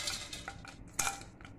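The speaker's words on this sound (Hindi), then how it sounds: "अब मैं जब घी हल्का गर्म होता है तभी हम इसमें 2 चम्मच गोंद डाल देते हैं।" A metal spoon clinks and scrapes lightly against a pan while edible gum is added to warm ghee, giving faint, scattered taps with one sharper knock midway.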